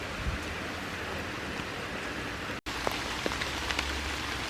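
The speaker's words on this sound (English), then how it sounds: "it's absolutely throwing it down in rain" Heavy rain pours down steadily in Queens Park, Crewe, in July, a dense hiss of drops with occasional sharper patters close by.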